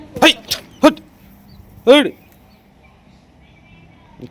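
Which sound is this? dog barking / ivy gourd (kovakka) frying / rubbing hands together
dog barking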